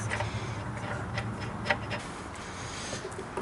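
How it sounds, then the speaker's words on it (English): Torque wrench ticking while a nut is tightened on an engine mount of a 2012 Chevy Impala, Malibu or Buick: faint irregular small clicks, one sharper click partway through, over a low background hum. "Torque it down"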